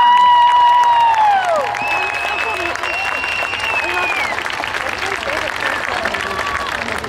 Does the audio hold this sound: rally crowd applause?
yes